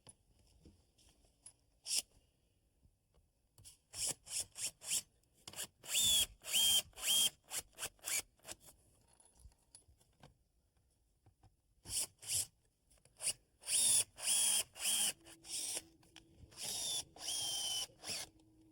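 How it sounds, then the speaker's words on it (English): A power drill whirs in repeated short bursts, driving screws into wood while building a picnic table, with pauses between, some runs longer and rising in pitch as the bit bites. "now we'll screw it in place"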